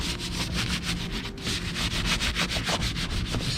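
A brush lightly scrubs a Gram Lights 57DR wheel from a Civic EG track car, giving a steady, close, rhythmic bristly rubbing with regular strokes throughout.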